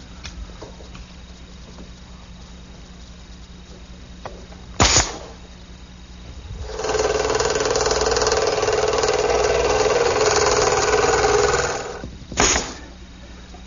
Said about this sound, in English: I'll simply fasten them in place with some 1-inch brads